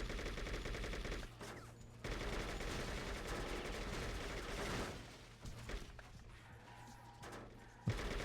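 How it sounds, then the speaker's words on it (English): Rapid bullpup rifle gunfire in the video game True Crime: New York City, sustained bursts of loud automatic shots with brief pauses, close and dense, with a sharp final report near the end. "we have a bullpup rifle for this"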